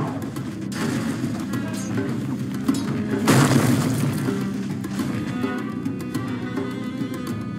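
A Dota 2 match with a tower under attack: dense, continuous battle noise of booms, crashes and thuds. A heavier burst of impacts lands about midway, and a faint voice sits low in the mix.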